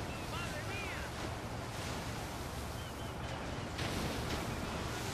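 Ocean waves and surf in Grand Theft Auto wash steadily as a constant broadband roar with wind-like noise, and faint whistling tones drift through the beginning.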